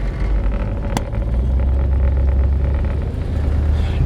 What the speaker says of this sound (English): this is the first drive in the Ranchero since we did the flywheel.